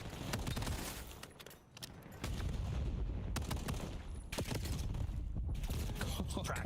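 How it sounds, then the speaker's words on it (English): Gunfire from a Call of Duty League pro match, LA Thieves versus FaZe Vegas, heard as a run of sharp separate shots and bursts, moderately loud, with a short lull in the middle and game ambience between them. "Practicing the pistol shot"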